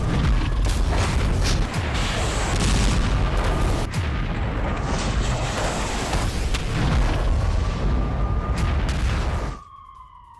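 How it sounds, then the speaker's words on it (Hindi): A Russian tank on the move grinds and clanks with loud, continuous mechanical rattling, punctuated by heavy booming shots, before the noise cuts off abruptly near the end. "देखिए चलते चलते टैंक से कैसे अटैक किया जा रहा है"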